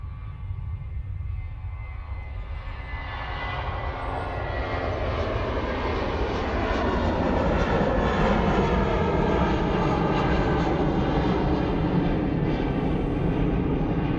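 A plane taking off at Manchester Airport, its engines swelling from a low rumble into a loud, sustained roar that builds and holds to the end.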